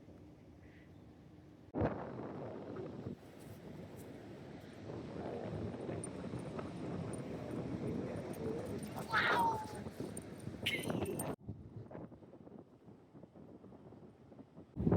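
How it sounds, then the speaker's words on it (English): Strong wind on the Oregon Coast buffets the microphone in a loud, rumbling roar that lasts most of the clip, with a brief exclamation from a voice. "it is super windy"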